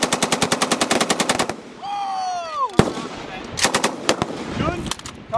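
Automatic rifle fire rattles in a rapid, even burst during U.S. Marine small arms training, then a shouted voice, a sharp single report and further bursts of gunfire crack outdoors at close range.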